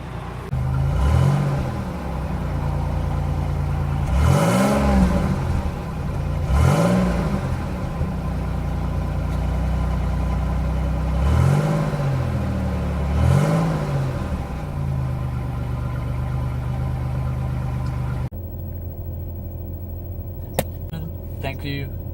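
A car exhaust on a Troféo idles with a steady low rumble, broken by about five sharp revs that rise and fall back quickly. Near the end the engine cuts out, leaving quiet with a single click.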